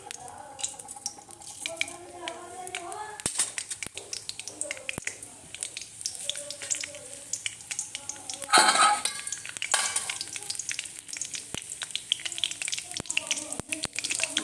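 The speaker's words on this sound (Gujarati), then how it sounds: "હવે તેલ ગરમ થઈ જાય એટલે આપણે એમાં કઢી પત્તા એડ કરીશું હવે જીરું એડ કરીશું" Curry leaves and cumin sizzle in hot oil in a home kitchen, a soft crackle with scattered sharp pops and one brief louder burst of spattering, under faint background clatter.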